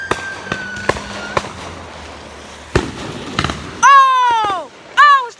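Fireworks explode outdoors in several sharp, distant bangs and pops, followed by loud excited vocal exclamations from nearby people.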